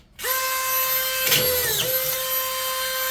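DeWalt power drill driving a screw into a fence, a single sharp high whine that starts abruptly and holds for about three seconds, close and loud, with a brief grinding bite partway through.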